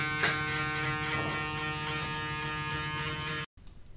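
A TPOB Goblin electric shaver buzzes steadily and close up while fading a haircut, a continuous harmonic drone that cuts off abruptly near the end, leaving faint room noise.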